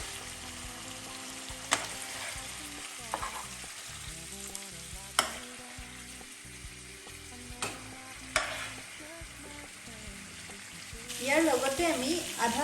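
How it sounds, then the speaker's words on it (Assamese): Chicken pieces fry in hot oil in a home kitchen, a steady low sizzle broken by several sharp stirring clacks of a utensil against the pan, with the sizzle swelling louder near the end. "মাংসখিনি ভালকৈ আমি ভাজি লোৱাৰ পিছত মাংসখিনি এটা বাচনত ওলাই থৈ দিম"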